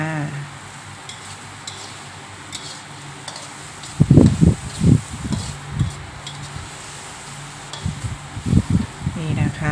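Minced pork and fish balls are stir-fried in a wok with basil seasonings, giving a soft steady sizzle broken by bursts of scraping and stirring in the middle and near the end, close by, with someone talking at times.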